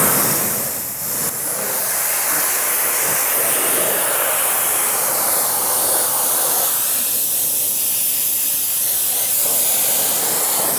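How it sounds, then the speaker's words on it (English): A pressure spray hose rinsing built-up mud off the tire of an F350 truck abandoned in a field for ten years, heard as a continuous, close, loud hiss that shifts slightly in tone as the spray moves. "So then we're going to actually rinse the whole tire off"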